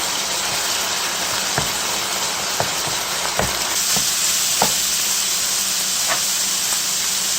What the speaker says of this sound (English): I'm going to start to flip it. Use your wooden spoon just to make smaller bits.